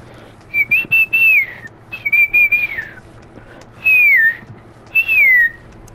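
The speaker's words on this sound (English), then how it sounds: "I was trying to learn how to whistle, and I'm practicing." Someone learning to whistle practices, producing four or five bursts of clear, wavering notes that slide and dip in pitch, each lasting about half a second to a second, played close and loud with short gaps between them.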